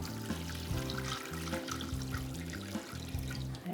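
Hot water pours steadily into a container for wet felting, a continuous close splashing trickle with a low hum underneath.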